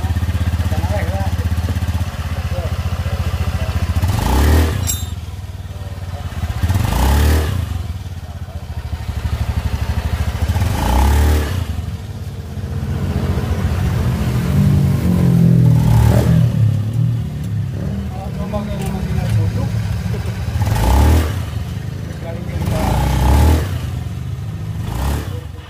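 A Honda Beat scooter engine revs in repeated bursts, rising and falling close by with scraping clatter between throttle blips.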